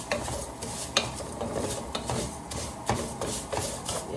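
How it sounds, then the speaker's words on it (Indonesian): Vermicelli being stirred as it fries in oil in a pan for Arab-style rice, with repeated scraping strokes and a steady close sizzle, no talking. "Ya teman-teman, kita goreng dulu sehariannya ya."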